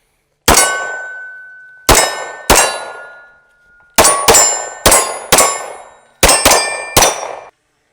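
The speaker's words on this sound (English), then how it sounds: "So we're going to do a little more shooting." About a dozen sharp shots at an outdoor shooting range, each ending in a ringing metallic clang that fades over a second or so, fired singly and in quick pairs against otherwise silent surroundings.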